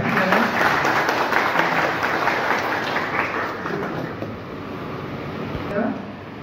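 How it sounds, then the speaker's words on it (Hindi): Loud crowd applause welcoming a woman legislator at a Bihar political committee meeting in Belaganj, dense and steady before gradually easing off, with a murmur of voices mixed in. "जोरदार तालियों के साथ उनका स्वागत किया है।"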